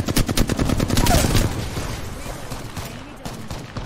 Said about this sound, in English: We can shoot these guys for free.